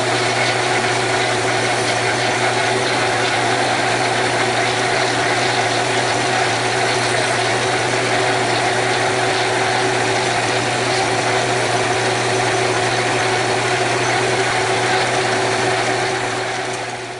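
A wood lathe spins a turned bowl while wax is burnished into it, producing a loud, steady motor hum with constant tonal whine and whirring that holds unchanged throughout.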